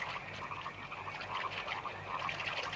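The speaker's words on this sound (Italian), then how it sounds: "Queste rane possono essere ossessionanti." Frogs croak at night in a dense chorus, many overlapping pulsing calls at moderate distance, steady and unbroken.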